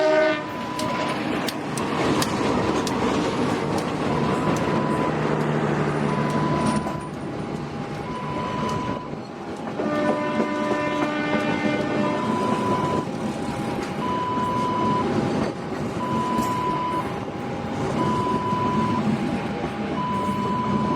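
The Sancaka Utara passenger train rolls past near the Gambringan level crossing, heading toward Gundih, a loud, steady rumble of wheels and carriages with a horn blast and a repeating warning tone ringing through most of the passage.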